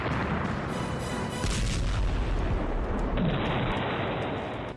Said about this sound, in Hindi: रूस यूक्रेन जंग में आपने तोप के गोलों से तबाही देखी।